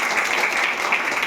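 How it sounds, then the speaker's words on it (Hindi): Audience clapping in a hall at a ceremony honoring a top-ranked student, a brief continuous burst of applause with no gaps. "ताली बजा सकते हैं"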